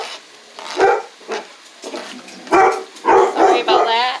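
A dog barks loudly in several sharp bursts in a home kitchen while goulash is cooked, the barks close and spread unevenly over a few seconds with some background noise between them.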